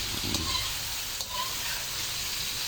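Chopped onion and garlic sizzle in a hot cooking pan as they are stirred and sautéed, a steady close frying hiss with occasional soft scraping from the stirring.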